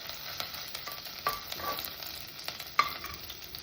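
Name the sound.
sautéing and mixing ingredients for aloo tamatar sabji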